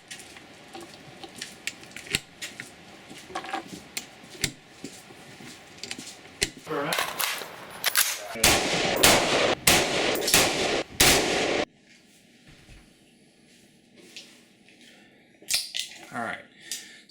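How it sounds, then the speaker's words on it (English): Gunshots at an outdoor shooting range fired by a shooter wearing a gas mask, a burst of sharp, loud reports through the middle with scattered shots before and after, over low background noise. "I just spent a little bit of time on the range shooting with this mask"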